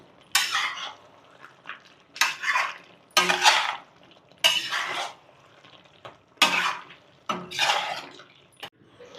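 Chicken with chili powder being stirred in a pot for a Telangana-style chicken fry, with repeated scraping strokes of a metal spoon against the pot at a slow, regular rhythm, close and clear with quiet gaps between.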